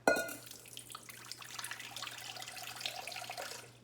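Water runs steadily from a kitchen tap after a sharp opening clunk, a continuous splashing flow into a bowl or sink.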